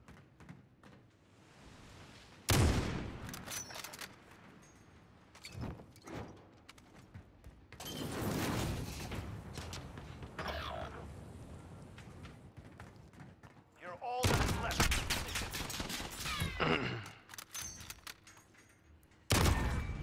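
A gunfight in a video game: loud bursts of gunfire break out repeatedly amid running footsteps and door sounds, with players talking throughout.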